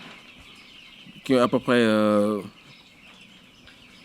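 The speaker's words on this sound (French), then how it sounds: "Nous sommes dans une ferme de 500 sujets, 500 poulets de chair" Broiler chickens on a poultry farm of 500 birds give one loud, drawn-out squawking call lasting about a second, rising above a low farmyard murmur, with French speech around it.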